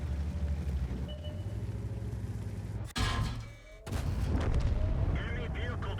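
A World of Tanks SU artillery tank fires with a sharp, heavy boom and a loud roar that cuts off abruptly, then a second loud blast follows about a second later over continuous game engine rumble.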